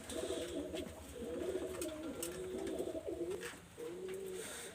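Adult pigeons, quality breeding birds, cooing softly in repeated low, rolling phrases, fairly close and alone with faint background noise.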